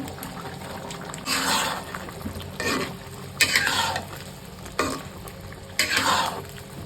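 Okra being stirred into potatoes cooked with mustard in a pan in a village kitchen, with a steady sizzle and loud scraping stirs in several bursts, close up and without talking.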